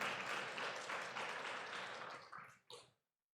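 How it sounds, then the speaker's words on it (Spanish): A church congregation bursts into dense applause during a Spanish-language service, steady clapping filling the room before fading out near the end with a few last scattered claps. "Dele ese aplauso al Señor,"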